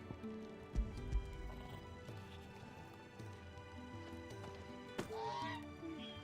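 Birds squawking in the video game Final Fantasy XVI, a few honking, goose-like calls over a low ambient game soundscape, with a couple of dull thuds early and a louder squawk near the end.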